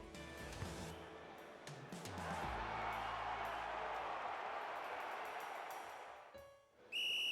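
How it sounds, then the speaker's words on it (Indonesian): A shrill whistle blast rings out over a noisy crowd, then the din fades and a short sharp whistle tone sounds at the end. "Peluit sudah dibunyikan."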